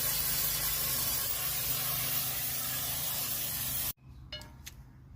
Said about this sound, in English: so we can spray them with brake cleaner